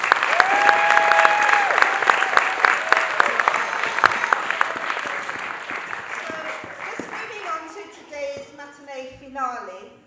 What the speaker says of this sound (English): I'm going to ask for one more round of applause for these amazing children,